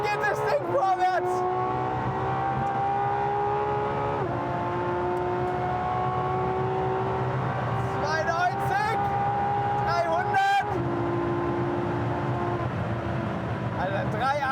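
Straight-piped V12 of a Ferrari LaFerrari accelerating hard in gear after gear, a loud, steady engine roar with rising pitch sweeps and brief gear-change dips, heard from inside the car and carrying on throughout under excited talk.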